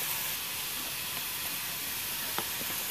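Tomatoes cooking in a pan for pav bhaji give off a continuous close hiss and sizzle, steady throughout, with a few faint clicks near the end and no talk.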